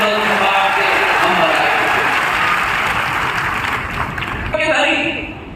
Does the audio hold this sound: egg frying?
no